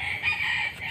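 A rooster crows once at a moderate distance, a short strained call over faint background noise.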